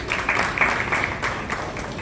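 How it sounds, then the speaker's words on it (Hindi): Audience clapping for a worker at the Delhi Games 2025 event, a sustained patter of many hands spread over the whole moment at moderate loudness. "पर जोरदार ताली इनके लिए"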